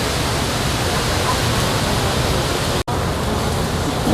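Heavy rain pours in a steady, dense, hissing roar that fills the background at an even level, broken only by one brief cut near the end.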